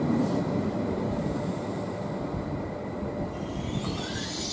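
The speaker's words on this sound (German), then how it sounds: "Es fahren dann doch Züge auf Bahnsteig 1 auch durch, warum auch immer auf einmal." A train passes through platform 1 at Kufstein station in Austria, a steady broad rolling roar with a faint high wheel squeal building toward the end, heard alone from the platform.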